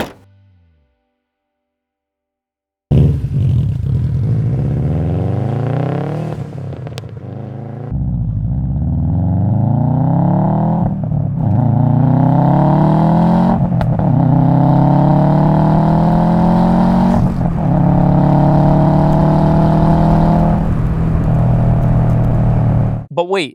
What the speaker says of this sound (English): I know a lot of you guys love the famous Subaru Rumble